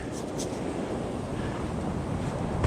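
Ocean waves washing onto a beach during metal detecting, a steady broadband surf wash mixed with wind rumble on the microphone, continuous and fairly close.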